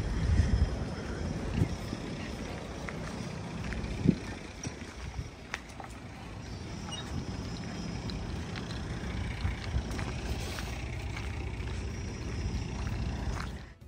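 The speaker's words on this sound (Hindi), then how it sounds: "मैं बस जा रही हूँ इस ट्रैक्टर पे, इस ट्रॉली पे बैठने।" A tractor towing a passenger trolley on a fruit farm gives a steady low rumble and rattle, mid-distance and moderately loud, with a few sharp knocks along the way.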